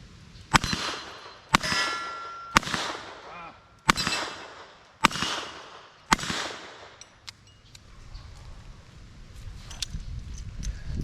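A Smith & Wesson pre-model 10 revolver fires light wadcutter rounds at a shooting range. Six sharp, ringing cracks come at roughly one-second intervals, close to the microphone, followed by quieter handling noise.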